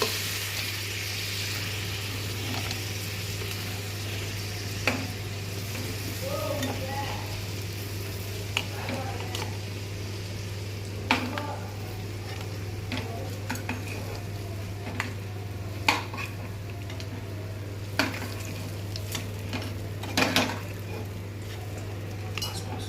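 Eggs frying in a pan for egg thokku, with a soft steady sizzle broken by scattered clicks and scrapes of a utensil stirring against the pan, with some quiet speech.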